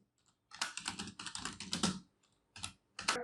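Typing on a computer keyboard, fast bursts of clicky keystrokes close to the microphone, then a pause and a few more short flurries of keys, with no talking.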